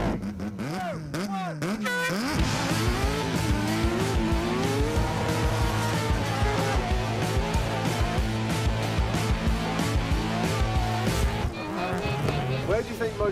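Race truck engine revving and circling a track at a Repco NextGen NZ Championship event at Manfeild, a loud steady motor drone with shifting pitch and tyre noise, a brief startup burst before the sustained run, commentators talking over it.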